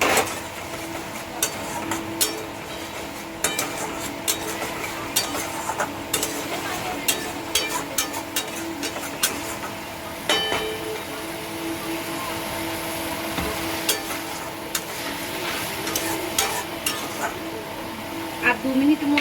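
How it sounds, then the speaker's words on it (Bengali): A spiced masala mixture being stir-fried with splashes of water in a pan over a raised gas flame sizzles steadily, with scattered clinks and scrapes of a spoon against the pan throughout. "এবার এটাতে আমি একটু করে জল দিয়ে কষবো, গ্যাসটা বাড়িয়ে দিয়েছি"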